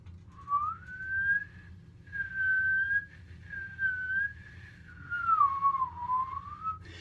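A single person whistles a wavering, sliding tune, the pitch rising and dipping in continuous phrases with brief breaks, over a low background rumble.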